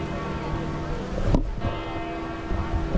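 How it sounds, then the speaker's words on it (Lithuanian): Church bells of the Vatican ring out across an outdoor square, a full, sustained clangour with voices talking faintly in the crowd beneath it. "Pasiklausykit Vatikano varpų"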